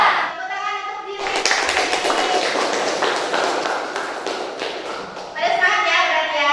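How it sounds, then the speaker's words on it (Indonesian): A class of vocational high school students in Indonesia claps together in a dense, steady burst for about four seconds. A teacher's voice is heard before and after the applause. "Tepuk tangan untuk diri."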